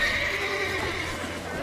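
A horse whinnies during a tense escape, a strained neighing cry with a hint of hoof clatter, fairly close, mixed with other noise.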